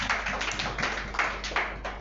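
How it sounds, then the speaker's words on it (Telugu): A church congregation claps loudly in a quick, even rhythm during a Telugu sermon, a run of sharp, regular hand-claps with no talk over them. "గట్టిగా చప్పట్లు కొట్టి దేవుని నామమున మహిమపడదాం"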